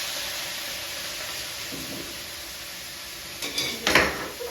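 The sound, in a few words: mixing stir-fry sauce into vegetables in a pan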